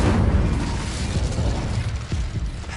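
Incendio fire spell from Hogwarts Legacy erupting as a loud, sustained rumbling blast of roaring flame, booming low and continuous for the whole stretch with no talk over it.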